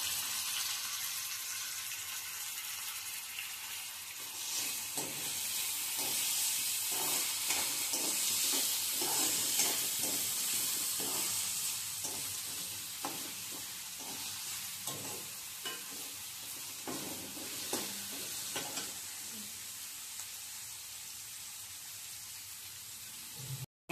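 Onions and tomatoes sizzle steadily in oil in a pan for home-style Maggi noodles, with a continuous rain-like crackle and repeated spatula stirs and taps throughout.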